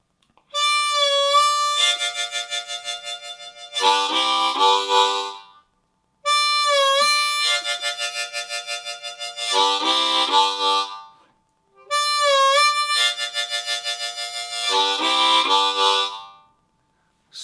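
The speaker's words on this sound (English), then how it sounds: "Here's what the riff is going to sound like." A blues riff on a C diatonic harmonica, played three times in a row, with bent notes sliding in pitch and wavering vibrato on held tones, clear and close with no talk.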